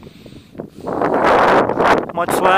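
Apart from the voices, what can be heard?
wind blowing outdoors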